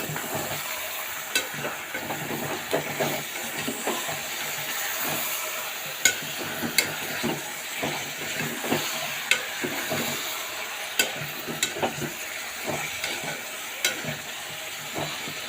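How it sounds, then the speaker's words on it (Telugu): Mutton frying in a pan for gongura mutton, a continuous sizzle with periodic scraping stirs and occasional sharp clicks of a utensil against the pan, steady and close with no talk. "మటన్ వేసుకున్నాం కదా ఒక నిమిషం పాటు వేయించుకున్నామండి"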